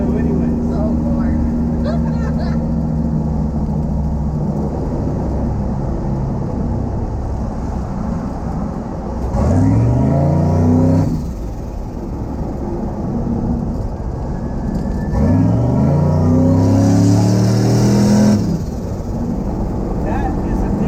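A turbocharged LS engine with a failing valve idles roughly, then rips through two sharp revs with a rising turbo whine, loud and close, while people talk over it.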